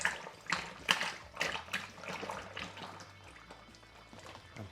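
Pinot Grigio wine kit juice poured into a fermenter, an uneven glugging splash with a few sharp spurts early on, fading into a softer trickle.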